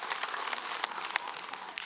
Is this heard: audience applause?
yes